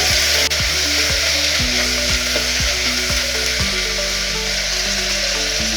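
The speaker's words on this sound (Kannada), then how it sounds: "ಟೊಮೆಟೊನು ಚೆನ್ನಾಗಿ ಮ್ಯಾಶ್ ಆಗೋವರೆಗೂ ಫ್ರೈ ಮಾಡಿ." Two finely chopped tomatoes fry in a pan, mashing down as they cook. A loud, steady sizzle is joined by regular knocks of a spoon about every half second, with nobody talking.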